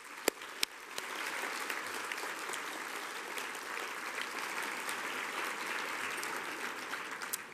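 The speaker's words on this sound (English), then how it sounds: "let's give another round of applause to all of our great authors" Steady applause from a gala audience honoring authors at a literary event, a broad wash of clapping lasting the full stretch with a couple of sharper claps near the start.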